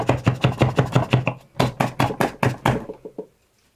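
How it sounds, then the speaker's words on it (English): The sides of a sub-$100 home espresso grinder are tapped by hand in quick, even knocks, a run of about eight, a short pause, then about seven more, loud and close, with no voices. "you can tap the sides of the grinder so the grounds fall from the chute"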